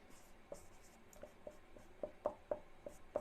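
Writing an equation on a classroom board in a Class 10 geometry lesson on triangles and Thales' theorem: a faint run of short scratchy strokes that grow a little sharper toward the end, with no talking.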